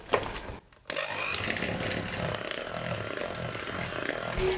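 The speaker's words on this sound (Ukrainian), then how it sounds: "Зараз вмикаю мінімальну швидкість міксеру та перемішую до однорідності." Electric hand mixer running at minimum speed, beating cream cheese with powdered sugar in a bowl; a steady, close whirring motor drone with scraping texture that cuts out briefly near the start, then resumes continuously.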